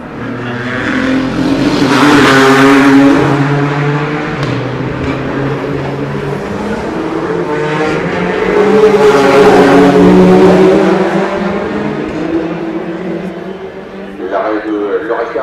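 Le Mans prototype and GT race cars, including Ferrari number 82, roar past at the 24 Hours of Le Mans 2016, two swelling and fading passes under continuous French commentary.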